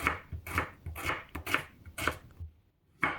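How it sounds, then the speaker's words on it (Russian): A knife cuts onion and potato into thin strips on a cutting board, making about eight quiet, crisp chops in an uneven rhythm with a short pause near the end. "Лук я режу тонко, соломкой. Картофель тоже режу затем соломкой."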